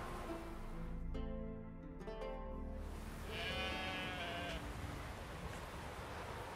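Sheep bleating in The Witcher 3 open-world game, a couple of short harmonic bleats near the start followed by a fainter higher call, over steady ambient outdoor noise.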